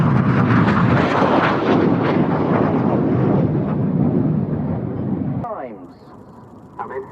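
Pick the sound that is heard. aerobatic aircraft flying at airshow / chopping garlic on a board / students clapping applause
aerobatic aircraft flying at airshow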